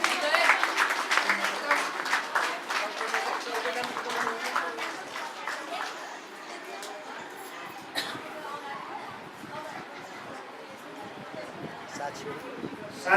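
Guests clap at a Nepali Christian wedding, a burst of applause in the first few seconds that thins out, followed by murmuring room chatter and voices from the crowd.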